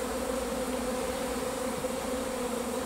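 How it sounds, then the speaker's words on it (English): A honey bee swarm hums with a dense, steady buzz that stays constant throughout, close and alone with no voices, like many wings droning together at once. "It looks to me like there's lots of bees going in through the hole on the side down there"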